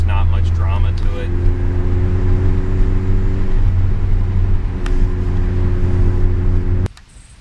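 A 2017 Ford Focus ST with a CNT Racing cat-back exhaust drones steadily while driving, with a low, even engine hum and no crackles. The sound stays loud and continuous until it cuts off abruptly near the end.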